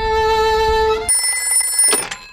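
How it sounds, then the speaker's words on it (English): A Peppa Pig cartoon telephone rings with a bright electronic warble, followed by a higher-pitched tone, loud and close, with no talking. "Let's phone Dr. Hamster the vet."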